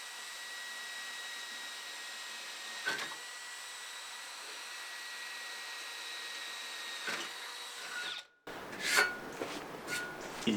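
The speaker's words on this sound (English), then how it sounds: "So now it's time to drill in the metal." An electric drill runs with a steady high whine while drilling holes into metal, broken by a couple of brief bites, then it stops and clattering handling noises follow nearby.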